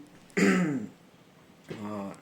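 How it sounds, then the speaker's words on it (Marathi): A woman with a cough clears her throat twice nearby, first in a harsh, louder burst and then a softer, rasping one after a short pause. "मम्मी पण खोकते बघा"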